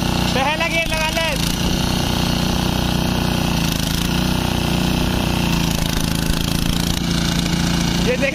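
Small power weeder engine chugging steadily in first gear outdoors, a loud continuous mechanical drone with people talking over it.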